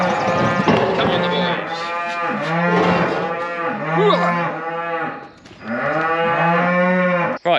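Dairy cows moo loudly and repeatedly in a barn, several long drawn-out calls overlapping one after another, close and dominant, with a brief pause near the end before another starts.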